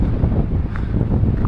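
Strong wind at a lakeside trout and bass fishing spot buffets the microphone with a loud, low, continuous rumble and gusty rush, close and unbroken, with no speech.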